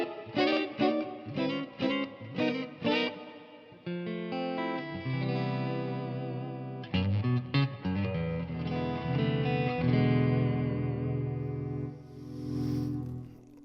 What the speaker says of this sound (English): I'm going to give you a little touch of the clean channel here all by itself with a drop of digital reverb